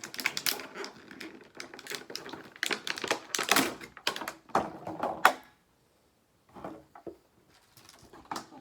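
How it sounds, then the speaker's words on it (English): Crinkly plastic packaging rustling and tearing as a Jurassic Park Hammond Collection Metriacanthosaurus figure is pulled from its box, dense and close for about five seconds, then a pause and a few scattered rustles. "I hope the noise on getting this out of the box wasn't too bad for you all."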